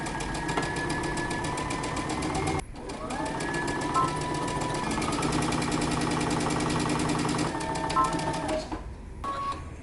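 A sewing machine stitches around sleeve tab pieces in a steady, fast mechanical whir, close up, with one brief stop and a short pause near the end.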